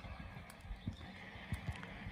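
Grey Lusitano stallion galloping under a rider, with soft irregular hoof thuds and faint horse sounds over low background noise, fairly quiet and distant.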